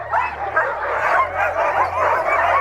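A dog yips and whines in quick, excited bursts close by, over a low engine-like hum from a vehicle in snowy Norway.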